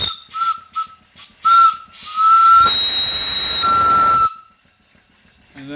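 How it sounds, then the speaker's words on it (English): A small whistle on the boiler of an antique off-grid steam engine gives a few short shrill toots and then one long, loud, hissing blast that stops abruptly. "Cute little whistle on it."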